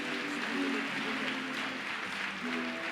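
Applause at a national church convention in French, a soft, steady patter of crowd clapping heard from a distance, with faint sustained tones of an instrument or voices underneath.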